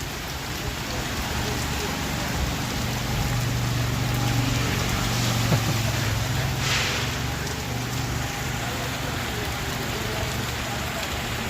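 Steady rain falling during the monsoon season in a Punjab village, a dense continuous patter on surfaces, fairly loud and unbroken throughout.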